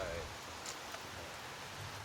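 Rain falls steadily during a Thanksgiving scene, a dense, even hiss of drops on hard surfaces that continues throughout at low volume.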